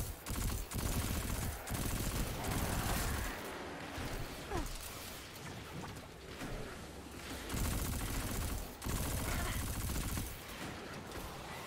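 Sustained automatic rifle fire in Destiny 2, loud rapid bursts with brief gaps, repeating across the whole stretch as enemies are shot.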